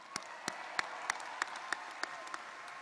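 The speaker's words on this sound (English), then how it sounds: "Please give them all a round of applause." Sparse, slow hand claps at a college commencement ceremony, roughly nine distinct sharp claps spaced about a third of a second apart, faint and distant against a quiet hall hum.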